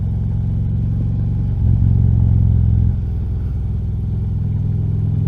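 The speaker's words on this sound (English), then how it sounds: "His exhaust sounds really good on this." A 2013 Harley-Davidson Road Glide rumbles through its exhaust on a test ride, a low steady engine drone that swells louder for a second or so in the middle before settling back.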